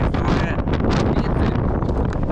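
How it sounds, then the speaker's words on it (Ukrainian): Strong wind at a ski area roars and buffets the microphone continuously, a loud rushing gust with no letup. "Тут є більший вітер."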